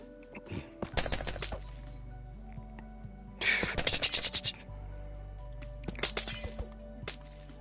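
Glass shattering in a video game: three loud, piercing bursts of breaking shards spaced a couple of seconds apart, each with a cascade of tinkling fragments over a constant low hum.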